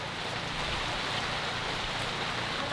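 Steady rain falls outdoors by a koi pond, where imported Japanese koi are being netted, making an even, hissing wash of drops at moderate level with no talk.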